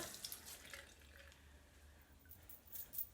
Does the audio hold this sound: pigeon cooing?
no